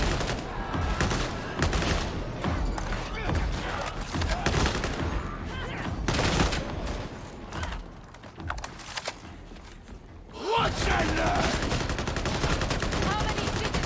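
Rapid gunfire bursts in Warhammer 40,000: Darktide, dense repeated shots through most of the stretch with a brief lull before resuming loudly, mixed with game sounds and some talk.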